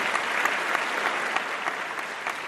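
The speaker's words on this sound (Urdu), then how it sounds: "اس پہ تو تالیاں ہونی چاہیے ہماری والی" Studio audience applauding during a Ramzan iftar transmission, a steady crackle of many hands clapping at moderate level, continuous and even with no voices over it.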